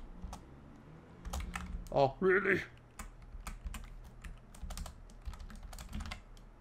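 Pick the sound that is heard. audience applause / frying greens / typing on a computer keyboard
typing on a computer keyboard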